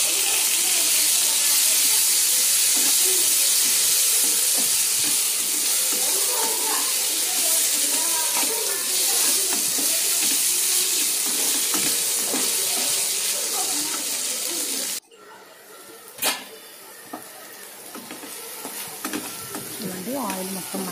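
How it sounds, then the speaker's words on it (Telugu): Chopped onion and tomato fry in oil in a home kitchen pan, giving a loud continuous sizzle and crackle with small stirring scrapes. Near the end the sizzle drops and a sharp clink is heard. "ఆనియన్ టమాటా రెండు బాగా ఫ్రై అయ్యాయి కదా,"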